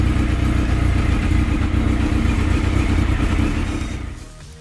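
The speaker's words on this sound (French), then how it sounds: "je laisse tourner un petit peu la moto, que l'huile elle aille bien partout" A Suzuki GSX-R 1000 K1 motorcycle engine idles close by with a steady, loud throb during an oil change, then fades out at the end.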